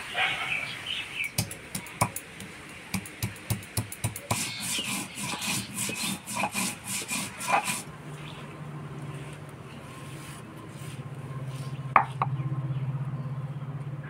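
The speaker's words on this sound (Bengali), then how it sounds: "মশলার মধ্যে আমি আদা জিরা ধইনা লঙ্কা বাইটে নেব" Ginger, cumin, coriander and chili being ground by hand, a run of close, rhythmic rubbing and scraping strokes that stops partway, leaving a low steady hum and a faint background noise.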